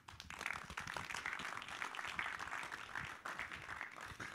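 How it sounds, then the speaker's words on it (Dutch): Faint, steady applause from an audience at a history society café event in Utrecht, dense clapping sustained throughout with no talk. "Geef een warm applaus voor Dick de Jong."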